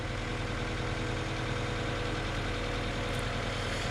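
A Toyota AE86 Levin engine runs rough, a dense, loud, close rumble that holds for the whole clip with an uneven, stumbling pulse underneath; no distinct separate backfire pops stand out, and no one talks.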